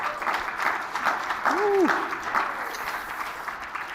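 Applause from a conference audience at a national security event, a short burst of clapping that swells and fades, with a voice exclaiming over it.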